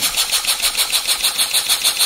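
A large 1956 Polish model steam engine with a heavy flywheel runs at speed, giving a fast, even, rhythmic chuffing beat that repeats about five times a second, close and steady.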